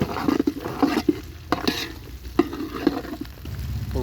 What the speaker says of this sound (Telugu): ముందుగా నూనె పోసి అందులో ఉల్లిపాయలు వేసి, పసుపు వేసి, అల్లం వెల్లుల్లి వేసి అవన్నీ మంచిగా ఫ్రై అవుతున్నాయండి.